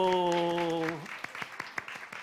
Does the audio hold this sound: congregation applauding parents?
yes